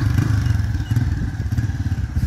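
A motorcycle being moved indoors, giving a steady low rumble with some clattering and knocking throughout, close by and fairly loud, with no one talking.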